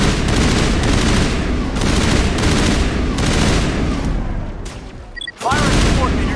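Coordinated gunfire in Mass Effect, repeated heavy bursts of weapon fire and booming impacts in a steady rhythm, loud and close, with a brief lull before the shooting resumes.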